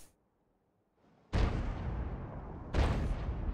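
Two heavy G.W. E 100 self-propelled artillery shots boom out in World of Tanks, each a sudden loud blast with a long rumbling tail, the second following about a second and a half after the first, after near silence.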